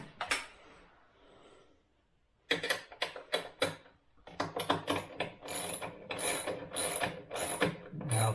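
A 13 mm ratchet wrench on an extension clicks in quick bursts while bolting crash bars onto a Suzuki DRZ400S motorcycle, the close, loud ratcheting starting after a quiet pause and running in repeated strokes to the end.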